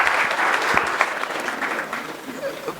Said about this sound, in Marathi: जोरदार टाळ्या झाल्या पाहिजेत जयराज सरांसाठी